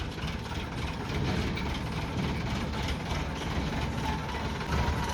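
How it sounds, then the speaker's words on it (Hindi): Tractor engine idling outdoors in a village, a steady low mechanical rumble with a faint rhythmic rattle that runs unbroken and fairly close throughout, with no voices. "ये आ गया ट्रैक्टर।"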